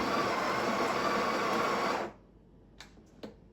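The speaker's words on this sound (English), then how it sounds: "Few more seconds of grinding." A Breville Barista Touch Impress built-in grinder grinds coffee beans with a loud, steady whirring for about two seconds before cutting off, followed by a couple of faint clicks.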